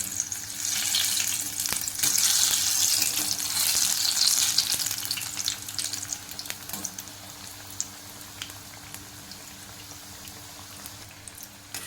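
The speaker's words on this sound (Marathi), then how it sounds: "आता मी पलटी करून घेत आहे" Corn vadas frying in hot oil while being flipped, loud close bubbling sizzle that swells early then settles, with occasional clicks of a spatula turning them.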